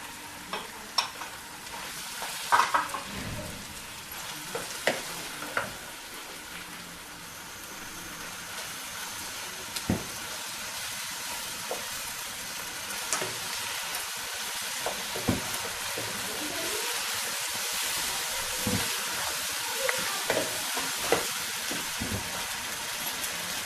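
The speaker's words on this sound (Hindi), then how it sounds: "अब हम टमाटर डाल रहे हैं।" Chopped tomatoes fry in a pan of mutton kaleji masala, giving a steady soft sizzle with occasional scraping stirs and clinks. The sound is fairly quiet and continuous.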